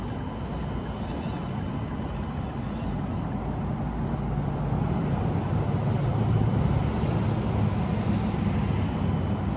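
Axial SCX24 RC crawler with its stock motor on a fresh 2S battery, running at top speed as a continuous dense motor and gear whir, close and steady, swelling slightly partway through.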